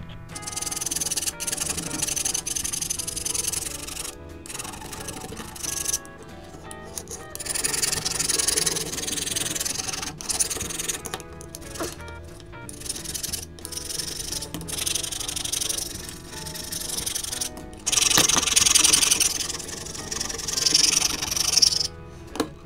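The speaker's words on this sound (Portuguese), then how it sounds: "E agora, utilizando uma lima, nós vamos lixar essas partes que vão ser soldadas." A hand file rasps back and forth over steel rails being prepared for welding, producing continuous scraping strokes at close range that rise and fall in intensity throughout.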